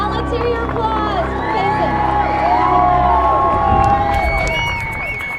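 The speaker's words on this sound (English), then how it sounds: "Okay, now let's hear your applause" A crowd at an elk-watching event in Payson near Rocky Mountain and Estes Park claps and cheers loudly, with whoops and shouts that rise and then ease off, and voices mixed into the din.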